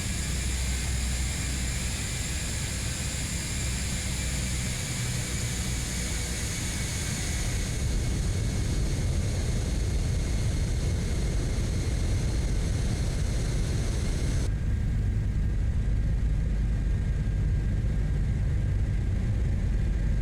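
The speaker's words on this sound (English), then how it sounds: "How's that for a max performance takeoff?" A C-17 jet making a max performance takeoff in Microsoft Flight Simulator 2024, a loud, steady, broadband engine roar that holds constant throughout and shifts slightly in tone partway through, with no voices.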